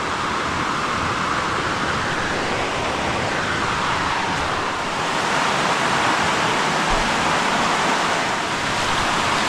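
Creek water rushes steadily over small cascades on a wooded hike at Rocky Fork State Park, a broad, continuous wash of flowing water that stays fairly loud and even throughout, with no voices.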